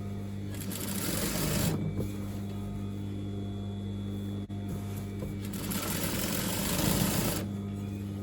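A sewing machine stitching a circle skirt seam at a half-inch allowance up to the pocket stitching, running in two close, steady bursts separated by a quiet pause.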